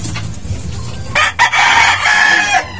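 A rooster crows loudly and close by, with hens clucking around it and a busy farmyard backdrop.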